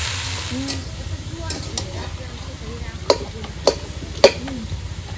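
Tender home-garden pea greens go into a hot pan with a large fish head and fry in a steady close sizzle, with a few sharp scrapes and knocks from the stirring spoon as they're turned.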